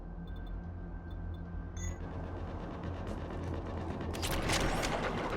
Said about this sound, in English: Shepard, I hear gunfire.